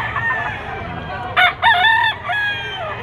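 A rooster crows loudly and close by at a livestock auction market in Padre Garcia, Batangas, a few broken bursts over faint background chatter and farmyard noise.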